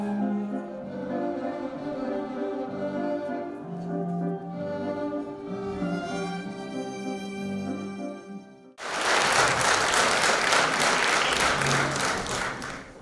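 Audience applause at a concert for International Women's Day breaks out loud and dense after a stretch of sustained orchestral music, steady full-room clapping filling the final seconds.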